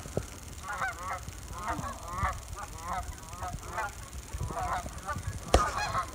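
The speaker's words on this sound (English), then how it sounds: "The turkeys are responding to the geese that are flying over." A flock of geese honks repeatedly as it flies over a turkey scouting area, a steady stream of overlapping calls at moderate distance, with one sharp loud burst near the end.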